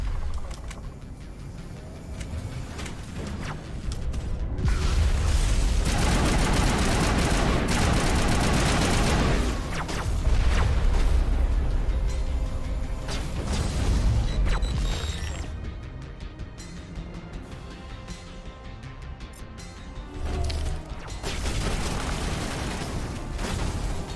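In the video game Mass Effect, tank cannon fire and explosions blast and crackle in a dense, continuous barrage of gunfire and booms, loud throughout with brief lulls.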